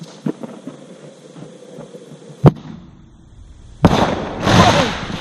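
Fireworks serve as simulated artillery in a WW1-style airsoft trench battle, with a sharp blast near 2.5 s and a heavier burst of explosions from about 3.8 s onward, preceded by scattered smaller pops.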